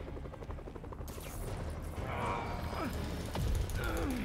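Helicopter in the Marvel's Spider-Man video game, a loud continuous rotor chop with mechanical whirring and rattling, joined by sharp bursts and whooshing game effects partway through.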